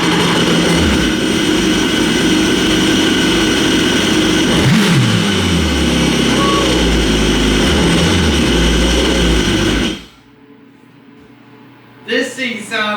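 Old jet ski engine, revived after sitting for years, running loud and rough with a steady rowdy drone and a brief rev, then cutting off abruptly near the end, followed by faint voices.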